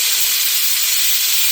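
A pressure cooker cooking paneer and colored capsicum pulao vents steam, a loud, close and continuous hiss with no break, heard alone without voices.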